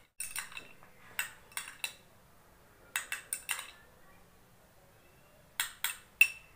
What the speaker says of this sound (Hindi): और आपको इसमें ऐड करना है आधा चम्मच पपाया की प्यूरी, और इन तीनों को आपको अच्छे से मिक्स कर लेना है।